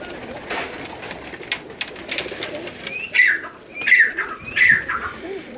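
Pigeons on a rooftop in Gujrat coo three times in quick succession near the end, fairly close, over low ambient outdoor noise and faint distant voices.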